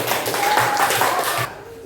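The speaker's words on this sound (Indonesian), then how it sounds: "Tepuk tangan untuk kelompok 1" Classroom students clapping for group 1, a dense patter of many hands lasting about a second and a half before cutting off, with faint voices mixed in.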